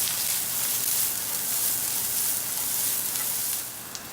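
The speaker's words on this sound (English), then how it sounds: "So I'm almost immediately gonna add in my onion and my green onion. We're gonna saute these together." Chopped onion and green onion sautéing in a hot pan, a steady, bright sizzle that holds evenly for several seconds and then eases slightly at the end, with no talking.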